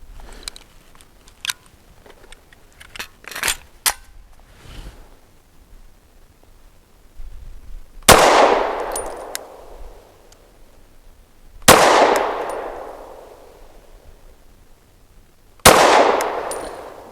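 A PSA Dagger Micro C1 pistol fires Hornady American Gunner 115 grain ammunition: three loud, sharp shots spaced a few seconds apart, each ringing out briefly, after a stretch of quieter handling clicks and rustles.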